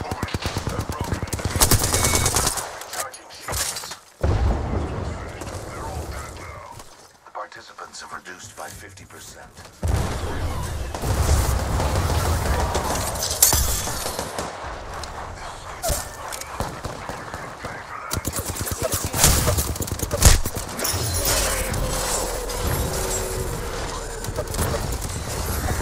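Gunfire in an Apex Legends ranked match: bursts of automatic weapon fire and sharp shots recur throughout, loud and close, with brief lulls, under game effects and occasional talk.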